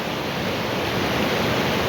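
A forest stream flows with a dense, steady rushing wash, loud and close, unbroken for the whole stretch with no voices.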